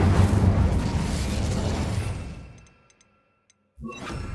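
Incendio fire spell in Hogwarts Legacy: a loud roaring whoosh of flame that fades out over two seconds, followed by a short silence and then another burst.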